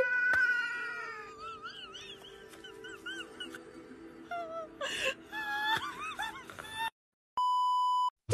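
A cat meows repeatedly in plaintive, wavering cries, some rising into moaning wails, followed by a short electronic beep.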